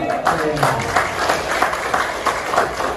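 An audience claps hands together at a small business seminar, a rhythmic, fairly loud round of clapping with a voice over it.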